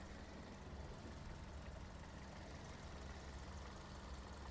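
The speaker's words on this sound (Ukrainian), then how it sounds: "Двигун працює чітко" A Toyota Avensis engine with automatic transmission idles steadily under an open hood, a continuous low rumble with an even mechanical hum and no change in pace throughout.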